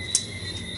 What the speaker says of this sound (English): singing frogs